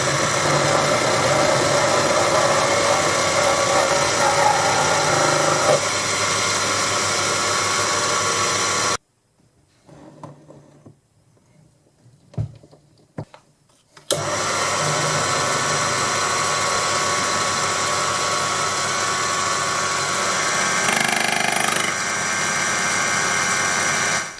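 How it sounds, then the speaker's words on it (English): A small Proxxon PD 250e benchtop lathe runs with a steady whining motor hum as it turns a scaled steel shaft held by the tailstock, cutting out to near silence midway before spinning up again. "The first couple of passes were very rough. This small lathe can't cut deep enough to go through the scale, so I had to scrape it off carefully."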